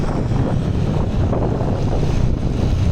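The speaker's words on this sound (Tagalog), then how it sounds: "Ang lakas yung hangin" Strong wind roars and buffets steadily against the microphone during a bike ride, a dense low rumble with gusty fluctuations and no voices.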